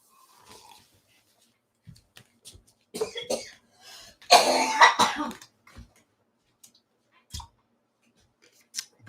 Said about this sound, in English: Before you bother feeling too bad about us coughing.